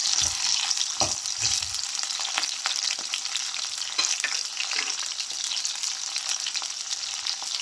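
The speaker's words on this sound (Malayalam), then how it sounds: "ഇതൊന്ന് വഴറ്റി കൊടുക്കാം" Chicken kondattam sautéing in a pan, a continuous close sizzle with brief scraping stir noises early on, steady and moderately loud throughout, no talking.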